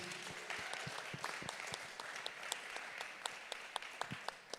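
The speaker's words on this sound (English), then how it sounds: "Give her a round of applause, please." Scattered applause from a modest audience at an agri-business investment forum for a commissioner, individual claps distinct and fairly light, somewhat distant, with a faint murmur beneath.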